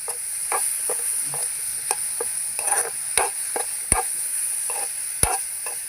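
Soybean curry frying in a pan as it is stirred, heard up close as a quiet steady sizzle with sharp scraping and tapping strokes of the spoon at an irregular pace.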